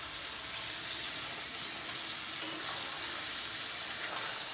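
Chicken masala frying with onion greens after a little water is added, a steady close hiss and crackle of sizzling sauce in the pan, continuous and even throughout, no talking.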